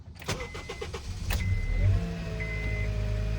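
A Honda Accord engine being started after its fuel tank was drained: starter cranking in a short series of pulses, then the engine catches and settles into a steady idle hum, loud and close.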